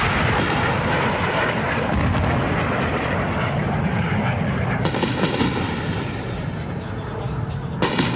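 Indian fighter jets flying over a city during the 1971 India–Pakistan war, a dense roaring rumble sustained throughout with sharper bursts, loud and broad, with faint voices beneath.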